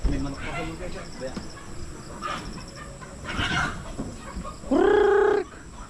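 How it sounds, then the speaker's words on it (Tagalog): A chicken near a rural farm plot clucks in a few short bursts with one clear call near the end, over a background of insects and faint murmured voices. "May manok pa sa lugar dyan."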